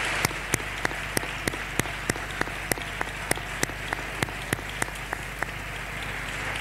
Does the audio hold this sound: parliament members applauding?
yes